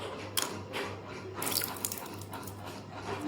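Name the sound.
water being poured over a Shiva lingam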